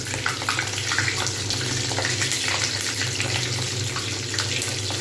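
Vegetable cutlets frying slowly in a pan over medium heat give a steady, close sizzle with a watery hiss, continuous and even throughout with no talking.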